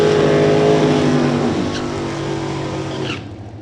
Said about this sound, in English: if you're out in the pits and you have heard cars running for the last 45 minutes